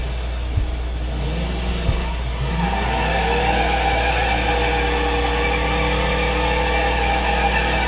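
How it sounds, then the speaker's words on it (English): Simulated car engine in a BeamNG.drive drag race, revving steadily with a rising, sustained drone that holds loud and close throughout, no talking over it. "Rev it, shift into first, it goes into drive."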